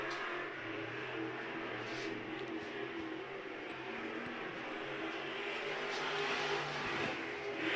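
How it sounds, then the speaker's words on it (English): A race car runs on a dirt track, its engine a steady, continuous drone with revving swells throughout, heard from some distance with no talk. "The 3AC that's out on the track right now, just crossed the start-finish line."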